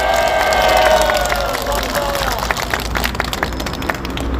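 A crowd at a conservative rally claps and cheers. At first the noise is mixed with voices and babble, then it settles into a spread of scattered clapping at moderate loudness.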